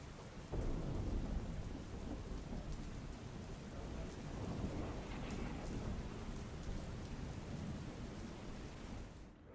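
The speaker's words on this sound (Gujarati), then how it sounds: "અમદાવાદમાં વિવિધ વિસ્તારોમાં ધોધમાર વરસાદ ખાબકતા માત્ર થોડા કલાકોમાં જળબંબાકાર જેવી સ્થિતિ જોવા મળી છે" Heavy monsoon downpour with thunder over Ahmedabad, the city's streets flooding: a loud, steady roar of rain with deep rolling rumbles throughout and no voices.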